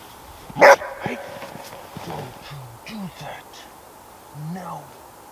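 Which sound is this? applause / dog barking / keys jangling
dog barking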